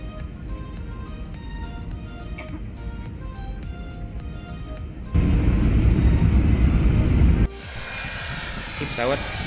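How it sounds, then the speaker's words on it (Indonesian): Airplane on final approach to landing at Natuna, its engine roar a constant broad drone heard from inside the cabin, swelling louder for a couple of seconds midway before settling back. "Pesawat sudah hampir mendarat."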